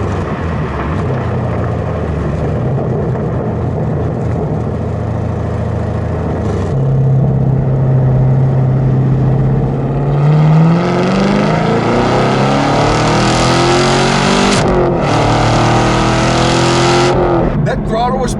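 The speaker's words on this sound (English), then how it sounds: "So right now I put the car in track mode, and there is a noticeable difference in the throttle response." A 2018 Chevrolet Camaro SS 1LE V8 in track mode, loud and close, with a steady engine drone that swells into a rising acceleration whine and then cuts off sharply at a gear change.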